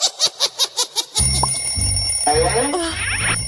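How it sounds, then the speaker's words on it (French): An alarm clock rings in a cartoon bedroom with a rapid, bright, pulsing trill of about six bursts, then gives way to rustling, thumps and vocal sounds. "Oh, le réveil sonne,"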